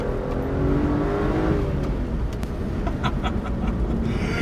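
A BMW 1M Coupe's engine revs and accelerates with a rising whir and a low rumble. The car sounds close and moderately loud, and short sharp clicks and ticks come through near the end.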